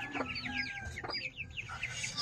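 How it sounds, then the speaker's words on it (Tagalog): Eighteen-day-old broiler chickens cluck and chirp softly together, a quiet overlapping chorus of short calls at close range with low background noise. "silipin natin yung alaga naming broiler chicken"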